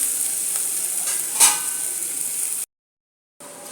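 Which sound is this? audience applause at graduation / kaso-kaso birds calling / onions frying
onions frying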